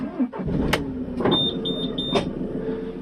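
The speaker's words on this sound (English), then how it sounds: "When you start the engine you may get a couple of beeps and a strange noise." Joa Camp 60F camper van (2023) starting its engine, then a series of short electronic beeps, about five evenly spaced, as the electric side step retracts, with a low mechanical hum and a couple of clunks underneath.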